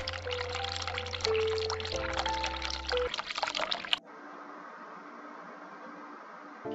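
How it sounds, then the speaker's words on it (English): Tap water pours into a hospital sink in a video game, a steady rushing stream under looping game music, then the music drops out and a quieter, hissing flow continues. "Turn cold water on, turn hot water on, turn tap off."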